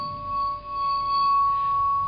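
Aluphone bowed with a bow mallet, producing a pure sustained ringing metallic tone that hangs steadily with bright overtones, heard alone and fairly close.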